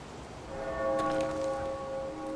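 A church bell rings at the Night's Watch in a Game of Thrones video game, one sustained, ringing toll with lingering overtones under rustling ambience.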